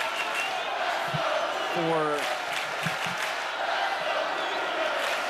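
Spectators at a men's college volleyball match between Hawaii and BYU make steady, loud crowd noise, with a commentator talking over it and brief whoops rising from the stands.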